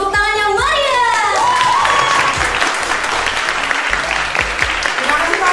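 An audience at an MC school event in Surabaya breaks into loud, lively applause, a dense wash of clapping that carries on for several seconds, with an amplified voice speaking over the start.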